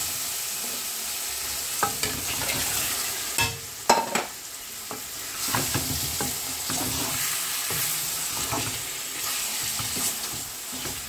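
Fresh karfu fish fries in a pan of tomato chutney with a constant close sizzle, punctuated by irregular scrapes and knocks from stirring throughout, no talking.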